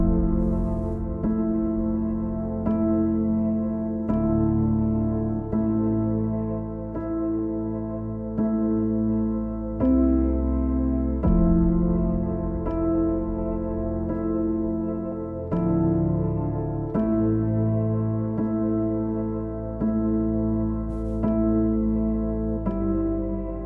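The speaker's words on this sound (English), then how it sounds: "And then the last thing we've got is a piano from Keyscape" Keyscape Wing Upright Lonely Basement upright piano preset playing a slow, thick passage of sustained chords and low bass notes, steady and warm, continuing without talk.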